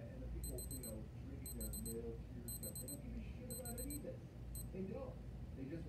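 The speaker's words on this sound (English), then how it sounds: "When you hit the light button, the alarm is supposed to go off." A digital alarm, from a Casio G-Shock GD-X6900 style watch, beeps in four rapid bursts of high-pitched chirps about a second apart, then one brief final chirp, over a steady rumbling background noise.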